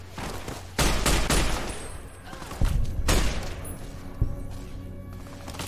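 Bursts of gunfire in Fallout: New Vegas, loud heavy volleys followed by a couple of sharp single shots, with voices talking in between.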